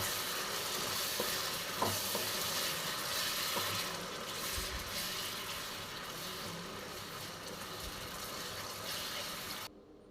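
Steady scraping and wet stirring of a paneer marinade masala loosened with a little water for a paneer tikka dum biryani, continuous and close, ending abruptly.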